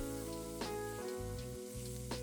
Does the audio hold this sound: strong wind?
no